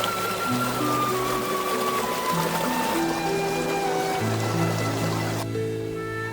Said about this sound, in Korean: 옆에는 또 계곡물이 졸졸졸 흐르고 있네요